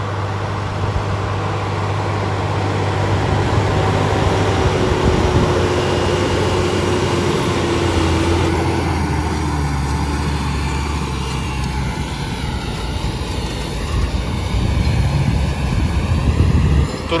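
Steady loud engine drone from a tractor seeder sowing rapeseed, with a blowing, whooshing turbine roar, continuous throughout with shifting tones, close by and no speech.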